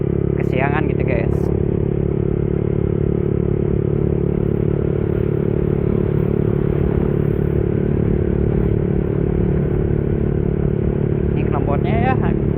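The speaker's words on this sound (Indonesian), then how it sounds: "Ini knalpotnya ya berisik" A loud, noisy motorcycle exhaust roars steadily while riding on the road, a constant droning engine drone filling the whole stretch, with faint brief chirps at the start and end.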